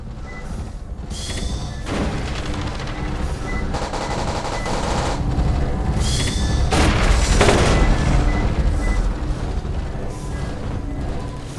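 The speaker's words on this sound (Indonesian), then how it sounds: "Aku pakai pistol dulu." Pistol gunfire in a Roblox game about fleeing a ghost train, with rapid repeated shots and booms layered over continuous loud game noise for the whole stretch.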